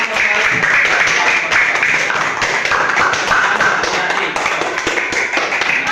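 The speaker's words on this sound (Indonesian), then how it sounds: "tepuk tangan semuanya" Classmates clap for a student group after its presentation on making ecobricks from plastic waste. The dense, steady clapping fills the room for several seconds without a break.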